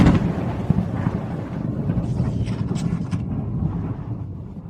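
A lightning strike sets off a deep thunder rumble that rolls on steadily and stays fairly loud, with a brief crackle near the start.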